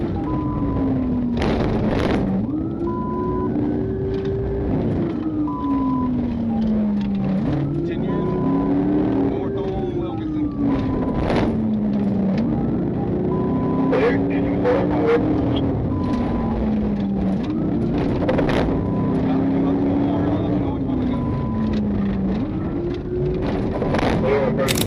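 Car fleeing police at excessive speed on the wrong side of the road, its engine revving up and down in repeated surges with tyres and road noise, under a continuous radio voice narrating the chase.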